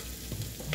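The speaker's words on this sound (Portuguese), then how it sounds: "gente vai dar uma refogadinha" Beef tongue sautéing in a pan gives off a short, soft sizzle with faint stirring, close by and quiet.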